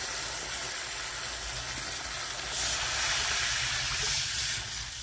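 Water tipped into a pan of hot fried turmeric and spices on a wood-fired clay stove, sending up a loud, steady sizzling hiss that fills the whole moment with no voices.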